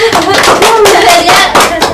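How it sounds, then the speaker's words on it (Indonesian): A small indoor audience claps for a bronze-medal sambo wrestler, a loud, close burst of hand claps with a few distinct sharper claps, under people speaking. "tepuk tangannya dulu Kak"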